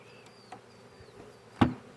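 Honey bees from a swarm being installed into a hive, a faint scattered buzzing with a few passing wingbeats and one sharp nearby knock or thump.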